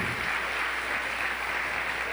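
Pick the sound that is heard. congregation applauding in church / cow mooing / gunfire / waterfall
congregation applauding in church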